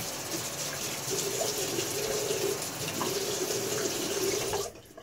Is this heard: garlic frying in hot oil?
no